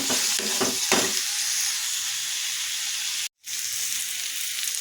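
Ingredients for eggplant gojju fry and are stirred in a pan, a continuous close sizzle with a few scraping strokes early on and a brief dropout of sound partway through, and no speech.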